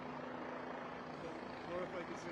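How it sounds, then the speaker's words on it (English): A news helicopter flies overhead at an outdoor rally, giving a steady, fairly faint broadband drone that lasts the whole stretch beneath voices. "I'm told that is a Fox News helicopter up there."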